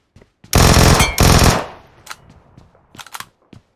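Automatic gunfire in PUBG Mobile, two loud close bursts, each about half a second long, followed by scattered fainter shots and clicks trailing off.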